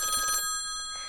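A telephone bell rings in a home, a short burst of bright trilling that cuts off after under half a second, leaving a faint lingering tone.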